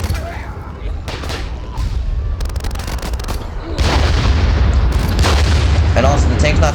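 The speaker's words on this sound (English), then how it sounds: "Okay, anti-tank rounds, here we go." Anti-tank rounds fire in the Warfare game, heavy booming shots and crackling gunfire bursting close and loud, growing denser and more intense toward the end.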